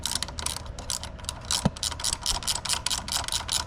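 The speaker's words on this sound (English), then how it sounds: "I'll get a little spanner for these blokes," Rapid metallic ratcheting of a spanner working bolts loose on a Harley-Davidson Fat Bob FXDF motorcycle, a steady run of close clicks with one sharper knock partway through, no talking.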